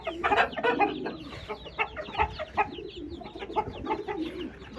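An Aseel rooster clucks close by in a continuous run of short, throaty clucks and low murmuring calls, moderately loud and steady, with no talk.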